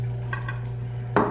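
A food mixture seasoned with olive oil is stirred in a pot during a home lunch, giving two quick scraping strokes followed by a longer wet swish, close and fairly quiet over a steady low hum.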